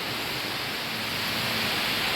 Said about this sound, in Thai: ฝนตกแดดออกครับฝนตกแดดออก